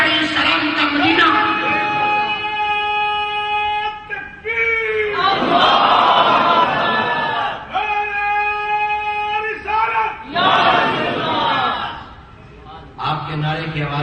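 A large crowd at Kowloon Masjid in Hong Kong shouts slogans in call-and-response: a single voice calls out and the crowd answers with a loud, massed roar, repeated about three times.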